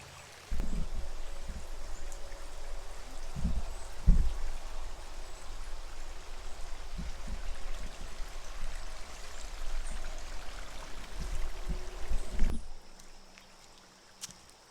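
Runoff water streams steadily down through a farm and floods the lower lots, making a continuous rushing flow. It stays close and fairly even, with a few low thumps, and drops away near the end.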